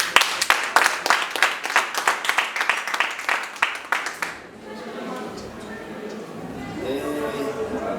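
Guests at a wedding anniversary clap loudly in a fast, even rhythm for several seconds, then the clapping stops and a voice starts talking.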